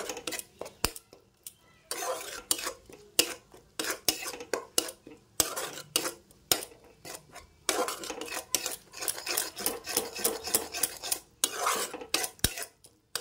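A spatula scrapes and stirs spices for a soybean and potato curry in a pan with a little water, making repeated close, rhythmic scraping strokes with faint sizzling underneath, and no one talks.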